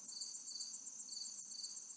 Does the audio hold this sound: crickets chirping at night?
yes